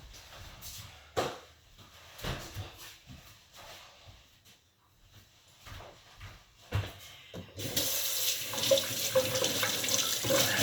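Hands are washed under a running kitchen tap, with scattered knocks and handling clatter at first, then a steady, loud stream of water that rushes and hisses for the final few seconds.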